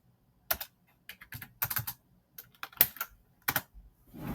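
Password being typed on a computer keyboard: a series of separate key clicks in short bursts with pauses between them, close and clear, with no talking.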